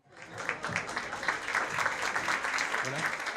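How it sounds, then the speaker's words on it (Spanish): Audience applause greeting a doctor arriving to give a talk on the physician's role in illness, a steady wash of many hands clapping that holds evenly from start to finish, with a murmur of voices underneath. "al cual lo estamos recibiendo con un fuerte aplauso"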